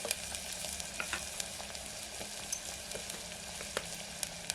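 Spices hit hot oil with lentils and garlic for a village-style garlic chutney. A quiet, close sizzle continues throughout, broken by light spoon clicks and small crackles, with no talk.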